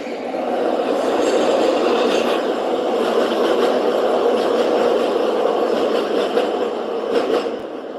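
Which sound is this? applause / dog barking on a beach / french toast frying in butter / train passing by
train passing by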